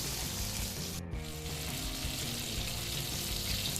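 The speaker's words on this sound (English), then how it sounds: "So now I'll fry all these pieces" Chicken pieces fry in hot oil for fried chicken, giving a steady, dense sizzle and crackle throughout, with a brief dip near the one-second mark before the bubbling carries on evenly.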